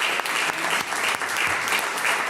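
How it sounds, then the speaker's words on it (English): A city council meeting audience applauds a high school team, the Everett Alvarez High School CIF NorCal Division I champions, with dense, loud clapping that holds steady for a couple of seconds, a few sharper individual claps standing out. "How about an applause for Everett Alvarez High School?"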